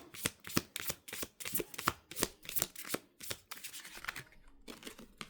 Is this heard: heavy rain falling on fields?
no